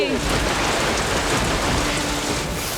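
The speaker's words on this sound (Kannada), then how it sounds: "ಮಳೆ ಬಂದು ನೀರು ತುಂಬಿಕೊಂಡಿದೆ" Cartoon rain pours steadily in a dense, even patter that carries on without pause, loud and close.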